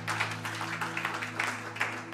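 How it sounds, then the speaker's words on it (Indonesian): A church congregation applauds with soft, patchy clapping under a steady low hum. The clapping stays faint and distant, and a voice is faintly present. "Berikan tepuk tangan buat Tuhan."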